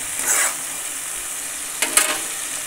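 Masala with tomato paste fries in oil for a spicy amti, a soft sizzle under two brief louder bursts of stirring in the pan.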